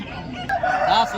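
A fighting rooster at a Sunday poultry market in Vijayawada gives a short, fairly close crow amid faint background market noise.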